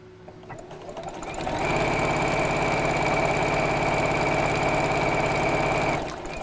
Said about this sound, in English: I'm just going to sew down each side of these